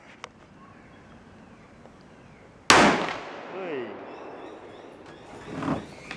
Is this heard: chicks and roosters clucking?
no